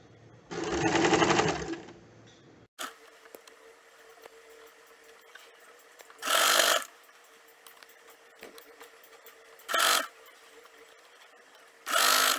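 A sewing machine stitches a strip onto the bottom of a puff sleeve in a home tailoring setting, running in one long, close, steady burst and then several shorter bursts separated by quiet pauses.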